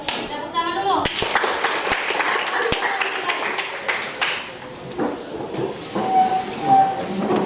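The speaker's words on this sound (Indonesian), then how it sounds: "Oke, kita tepuk tangan dulu." A class claps hands together in a dense, continuous patter of applause, with voices mixed in beneath the noisy crowd.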